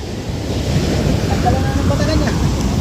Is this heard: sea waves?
yes